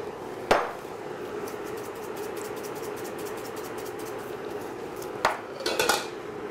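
Heavy cream is stirred into a zucchini sauce in a pan over a low, steady cooking hiss, with a sharp metallic clank near the start and a cluster of spoon knocks against the pan near the end.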